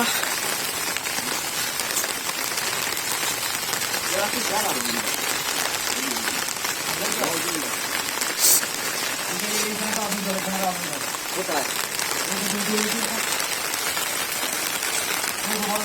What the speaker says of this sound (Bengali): মনে হচ্ছে বৃষ্টিটা আরও বেশি হচ্ছে